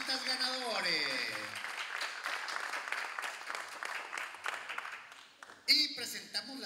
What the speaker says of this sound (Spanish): ¡Aplausos para los ganadores!